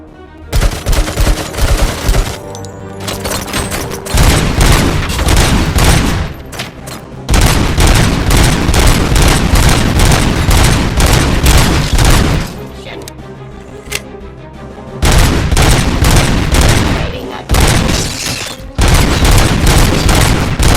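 Heavy, sustained gunfire in the video game RoboCop: Rogue City, with loud automatic bursts and booms filling the mix, broken by brief pauses between volleys.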